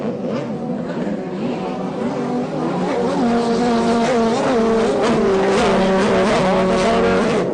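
Personal watercraft with roughly 1,100 cc motors race in a watercross event on Lake Havasu, engines whining and revving up and down in overlapping pitches, loud and continuous throughout.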